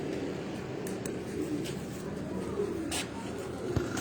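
Pigeons kept by a fancier for low-flying endurance racing coo softly in a loft, low murmuring calls under a steady background hum, with occasional clicks and rustles and some nearby speech.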